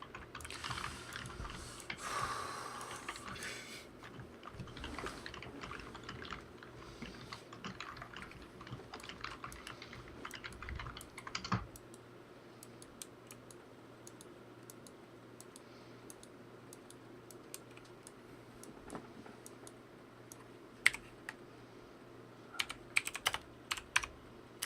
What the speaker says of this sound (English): Who are you typing to?